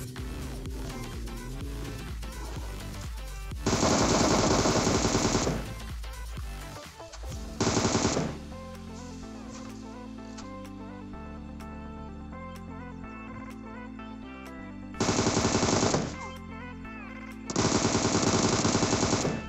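Bursts of automatic gunfire from a PUBG Mobile battle, loud sustained volleys repeating several times between quieter stretches of in-game sound and music, with no talk.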